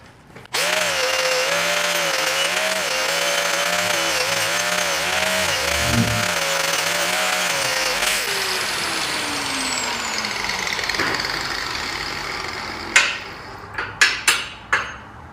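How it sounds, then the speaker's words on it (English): A wire wheel on a power tool spins up and grinds steadily against flux-core welds for several seconds, then winds down, followed by a few sharp metallic knocks. "let me give this a quick rub down with the wire wheel"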